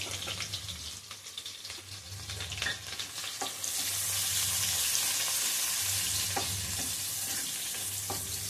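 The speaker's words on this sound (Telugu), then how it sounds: "ఇప్పుడు ఉల్లిపాయలు ఎర్రగా వేగాలి నూనెలో." Thinly sliced onions fry in oil for a fish curry, a steady loud sizzle with scraping stirs that grows denser partway through, no voices.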